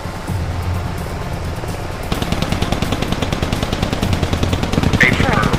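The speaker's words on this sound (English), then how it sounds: "Hey, shots fired" Sustained rapid automatic gunfire in the video game Squad, loud dense bursts of repeated shots that intensify midway into a continuous rattling stream.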